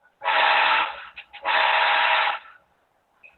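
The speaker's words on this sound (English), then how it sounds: "We're going to blow our whistle signal." A model train sound decoder plays two long blasts of a whistle-like signal with a short stutter between them, steady and fairly loud, then quiet.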